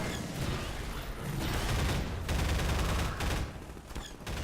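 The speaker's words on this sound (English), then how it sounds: "they do give you plenty of ammo for the plasma rifle alt-fire" Plasma rifle alt-fire energy ball in Half-Life 2's Nova Prospekt, set within dense, continuous combat noise of crackling bursts and booms that swell and fade over a few seconds, with no talking.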